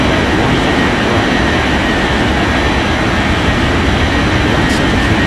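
Delta airliner on its takeoff roll in an air traffic control game, a loud, steady roar of jet engines that holds evenly and alone throughout.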